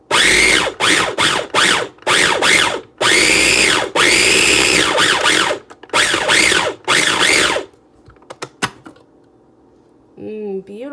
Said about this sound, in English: Beautiful blend of all these herbs and shallots together